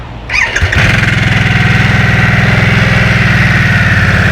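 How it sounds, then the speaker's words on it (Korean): Harley-Davidson Nightster motorcycle starts up with a brief whirring crank, then settles into a loud, steady, close idle with a fast pulsing throb and a metallic rattling edge, no talk. "시동 걸겠습니다."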